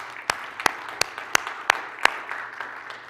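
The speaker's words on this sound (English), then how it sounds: "can we just give them a round of applause and say thank you?" Church congregation giving a round of applause for volunteers, thin and sparse at first, with about six sharp, distinct claps standing out over a soft background of scattered clapping.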